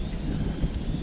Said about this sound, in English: Oh yeah, it's windy.